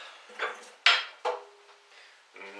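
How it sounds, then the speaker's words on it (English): A knife cuts the ends off celery on a board, a few sharp chopping knocks with clattery kitchen contact, close and fairly loud with pauses between strokes. "we just want to cut the heads and the tail off again"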